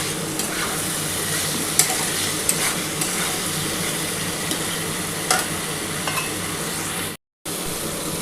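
Masala stirred and sautéed in hot oil in a pan, a steady close sizzle with scraping stirs and occasional clicks of the spatula, running continuously without talk before a brief gap near the end.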